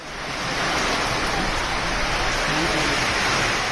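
Heavy rain driven by wind during a thunderstorm in Kallakurichi district, Tamil Nadu, forms a loud, steady wash of noise that rises at the start and then holds unbroken throughout, with no talk.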